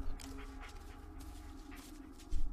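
A dog whimpers softly in the Blair Witch horror game, faint low whines under dull ambient noise, with a low thump near the end.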